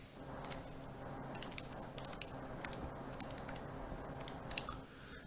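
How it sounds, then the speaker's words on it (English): Buttons being pressed on a calculator while entering an inverse tangent calculation, a quiet run of soft, irregular clicks over a low room hum, with no voices. "And we type that in."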